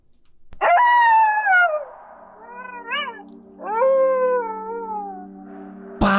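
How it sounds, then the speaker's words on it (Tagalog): Dogs howl close by at night, long rising and falling wails overlapping and sustained for several seconds, ending with a sharp knock. "Biglang umalulong ang mga aso."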